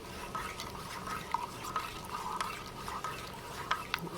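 A spoon stirs powdered military ration drink mix into water, swishing softly with light, irregular clinks against the container, quiet and close, with no voices.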